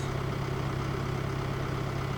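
A tractor engine in a farming video game runs at a steady idle, a continuous low rumble with constant loudness and no talking.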